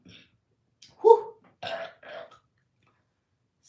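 A single voiced burp after drinking spicy water, loud and close in a quiet room, then one or two softer throaty follow-up sounds trailing off into silence.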